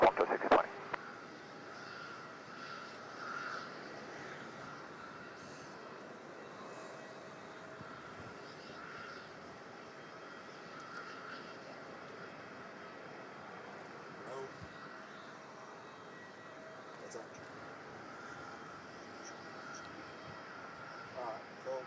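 Distant engine roar of a Qantas airliner taking off on runway 34 at Melbourne Airport, a steady low drone that holds through the clip with faint background noise.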